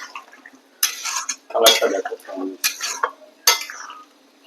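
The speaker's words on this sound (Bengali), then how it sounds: "এবার কর্নফ্লাওয়ারটা এর মধ্যে মিশিয়ে দেবো, তাহলে আমার রান্নাটা এবার রেডি হয়ে যাবে।" A spoon clinks and scrapes against a pan while cornflour slurry is stirred into chili chicken, giving several short bursts of metallic scraping and wet stirring with pauses between, close and fairly loud.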